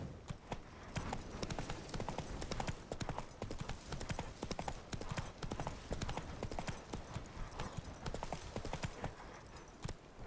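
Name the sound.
horse Roach trotting hooves in video game The Witcher 3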